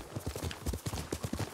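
Horse hooves clip-clop in a steady rhythmic gait in Ghost of Tsushima, moderately close and clear, with no talk over them.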